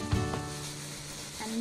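Onion and peppers frying in a pan for chili con carne give a soft, steady sizzle with a light stirring scrape near the start, fairly quiet throughout.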